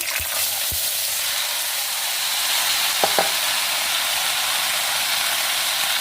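Mustard seeds fry in hot oil in a pan for a raw jackfruit palya, giving a steady loud sizzling hiss with a few small pops and spoon clinks near the start.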